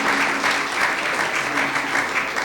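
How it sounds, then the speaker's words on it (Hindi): A church audience claps steadily to welcome a guest named Asif Iqbal, a sustained, moderately loud wash of applause with no speech over it. "मैं चाहूँगा भरपूर तालियां जो है वो बजाई जाए"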